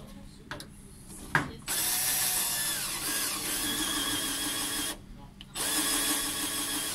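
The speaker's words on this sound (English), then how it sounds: "it's slowly drilling through" A drill whirs steadily through material at close range, pausing briefly partway and then starting up again after a few faint clicks.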